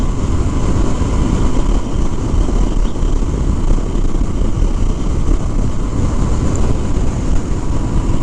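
Triumph 2019 Scrambler 1200 XE motorcycle cruising in sixth gear at about 55 mph and 3,000 rpm, a steady loud engine drone mixed with heavy wind rush, continuous and unbroken with no talking.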